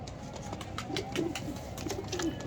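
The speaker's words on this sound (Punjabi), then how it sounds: "ਇਹ ਵਾ ਜੀ ਸਲਾਰੇ ਕਬੂਤਰ ਮਾਸ਼ਾਅੱਲਾ, ਕੀ ਬਾਤ ਹੈ ਜੀ" Salara pigeons coo softly in a low, rolling murmur, several quiet calls repeating at a calm pace with faint background noise.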